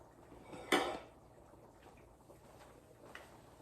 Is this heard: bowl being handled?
yes